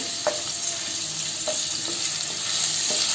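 Garlic frying in oil for methi palya, a soft steady sizzle with a few light stirring clicks scattered through, close and continuous without speech.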